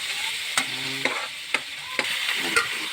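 Sliced bitter gourd (ampalaya) sizzles steadily in hot oil in a pan, with a spatula scraping and tossing it in several distinct strokes roughly every half second, close and fairly quiet, no voices.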